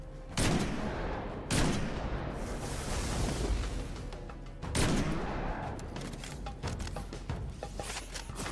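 Heavy gunfire fills a Destiny 2 firefight, with sharp booming sniper shots spaced a few seconds apart standing out over a constant rattle of smaller weapons, close and loud.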